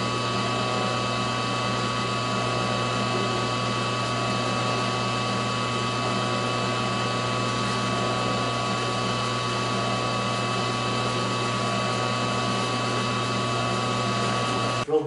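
A drill turning a 5/16 bit to countersink a washer hole in a puzzle-table build. It makes a steady, even motor whine that holds for the whole stretch, close and moderately loud, with a small knock at the very end.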